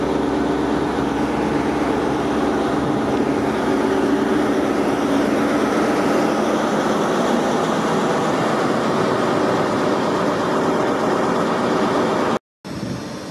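Onboard a passenger train in Scotland, a continuous low rumble and rolling hum of the carriage carries on steadily with no talk, before cutting briefly to silence near the end and resuming.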